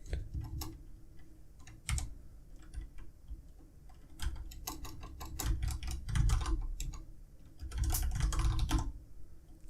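A computer keyboard clacks in irregular bursts of quick key presses during a farming simulator game session, close and clear over a low background hum, with pauses between runs of typing.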